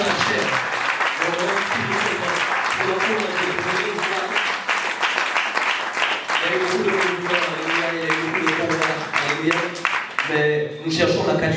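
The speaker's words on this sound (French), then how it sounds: "Est-ce que tu peux acclamer vraiment le groupe de louange?" A church congregation gives loud, sustained applause for the worship group, dense hand claps filling the room continuously while voices call out and cheer, easing off near the end.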